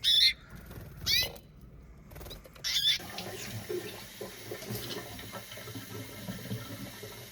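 Water being changed for pets outdoors with a little snow on the ground: bursts of water pouring and splashing, then a quieter stretch of trickling and handling noise, with brief bird chirps.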